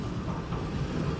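Train rolling along in the video game Arizona Sunshine 2, a faint low rumbling mechanical drone with slight rhythmic undertone, steady over the brief moment.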